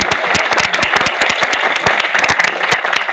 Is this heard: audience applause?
yes